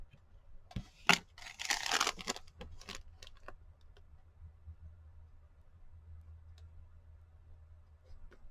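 Washi tape is torn and pressed onto a paper bag, giving a few close crinkly rips and taps early on, then a quiet low hum with faint ticks.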